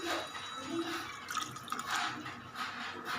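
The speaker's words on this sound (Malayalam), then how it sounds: "നമുക്ക് പുളിവെള്ളം ഒഴിച്ച് കൊടുക്കുക." Tamarind water pours into a simmering river-fish curry with a continuous close splashing, liquid sound over a few seconds.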